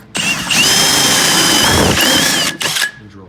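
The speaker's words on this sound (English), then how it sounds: "and drill through." A power drill whines loudly in one sustained burst, drilling through a plastic Tstak/Versastak box, then stops and gives a brief second spin.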